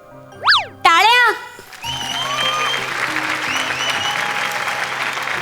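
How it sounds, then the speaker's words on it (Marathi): Audience applause at a Marathi comedy show's award moment, preceded by comic boing and whistle sound effects, then sustained clapping from a crowd filling the rest, fairly loud and steady. "टाळ्या"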